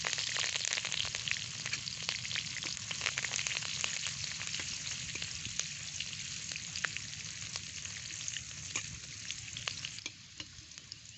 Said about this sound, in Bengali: এবারে তেলের মধ্যে দেব কয়েকটা কাঁচা লঙ্কা কুচি